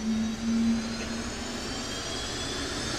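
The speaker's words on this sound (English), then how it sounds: "They've just plugged in Roger's battery pack, which I must say is immense to turn the jet over, obviously" Jet dragster engine spooling up at Santa Pod on a chilly day, a steady loud whine and roar holding evenly from start to finish with no talk over it.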